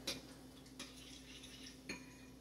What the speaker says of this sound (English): you kind of want to use a metal spoon and kind of chop it as you go